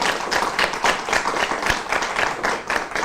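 An audience at a candidates' forum gives a round of applause, a loud, sustained wash of clapping from many hands throughout.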